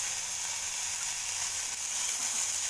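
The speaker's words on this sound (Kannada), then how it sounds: "ಎಲ್ಲ ಹೆಸರು ಹೆಸರುಬೇಳೆನೂ ಶಾಲು ಫ್ರೈ ಮಾಡಿ" Moong dal dry-roasts in a pan with a soft, steady sizzling hiss, quiet and unbroken, with no voices.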